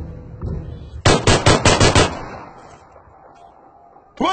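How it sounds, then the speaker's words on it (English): Burst of about five rapid, loud gunshots in PUBG, evenly spaced over roughly a second, with a sharp thud just after and another hit near the end, no talking over it. "Here, I'm gonna shoot to make him see it."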